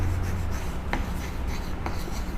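A pen or marker scratches across a board or page while writing the common name of ketones, a steady close rubbing broken by a couple of sharper strokes over a noisy background.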